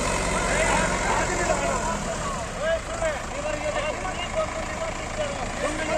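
Mahindra 575 XP Plus and Kubota MU4501 tractors straining against each other in a pulling tug test, a continuous rumbling engine drone throughout, with people talking over it.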